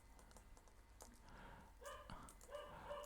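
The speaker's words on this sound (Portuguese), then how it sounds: "Peço desculpa pelos cachorros latindo." A few dogs bark and yip in short bursts in the distance, under a faint background hiss.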